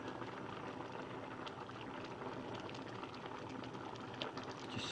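Rice boiling in a pot, a faint, steady bubbling simmer heard close and alone.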